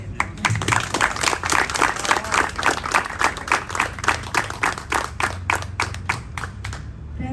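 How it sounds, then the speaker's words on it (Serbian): An audience breaks into steady applause, dense overlapping hand claps with a slightly rhythmic pulse, loud and sustained throughout with no pause. "Daćemo ti samo aplauz."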